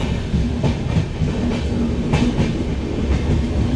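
Steady rumble of a passenger train with chair-car coaches running on tracks near Lucknow, heard from inside the coach, with continuous loud wheel noise and faint rhythmic clicks.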